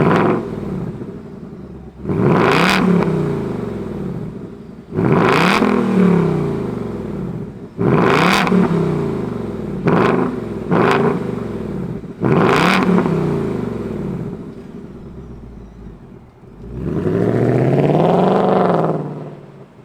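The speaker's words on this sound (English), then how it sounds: "Let's fire up this GTCS." 2023 Ford Mustang GT California Special V8 rumbling at idle and blipped repeatedly, about seven sharp revs rising and falling over a steady burble, ending with a longer rev, loud and close.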